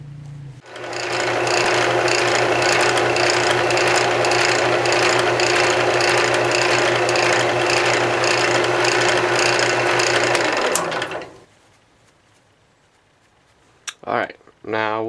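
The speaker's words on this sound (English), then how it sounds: "I'll stick them back on the lathe, and I'll use just a few of the highest grit sanding pads" A wood lathe spins double-barrel wood fountain pen blanks as high-grit sanding pads are pressed lightly against them, a loud steady whirring drone with rattling mechanical texture that runs without pause, then cuts off and spins down, leaving a few faint clicks.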